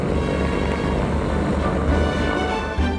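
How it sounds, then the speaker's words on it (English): Loganair inter-island propeller plane serving Orkney, its engines giving a steady, loud, continuous drone with a low throbbing hum throughout, no talk over it. "most people fly on this plane, the inter-island Loganair route"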